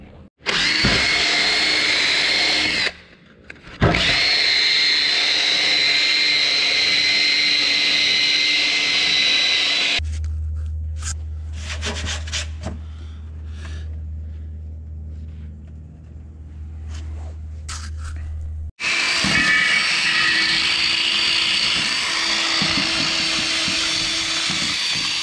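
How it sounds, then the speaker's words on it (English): Wire wheel spun by a drill scrubbing rust off a wheel rim, a loud abrasive whirring grind in long bursts, broken by a quieter stretch with a low hum before the grinding resumes. "Go grab a little wire wheel on a drill and see how this cleans up."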